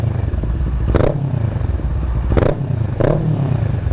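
A Kawasaki ER6N with an Akrapovic exhaust idles with a deep burble, then is blipped three times in short sharp revs that crackle loudly, close by.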